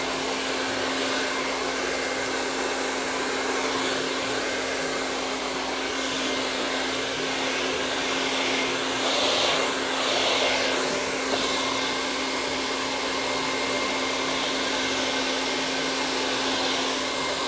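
A hair dryer blows steadily on curly, very dry hair, its loud constant whine holding throughout with slight swells as it moves, and no talking.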